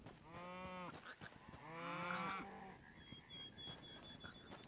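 Two drawn-out cow moos in the Hytale video game, close and clear, followed by quieter ambient game sounds.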